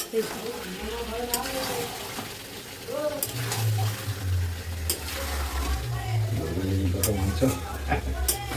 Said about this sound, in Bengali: আমি এসেছি বলে জেঠু এই যে মাংস রান্না করছে নিজে